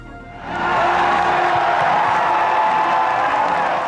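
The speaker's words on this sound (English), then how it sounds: "Clapping, fist pumping, and leading battle cries." A crowd at a 2004 New Hampshire Democratic primary campaign rally breaks into loud, sustained applause and cheering that swells quickly and holds steady.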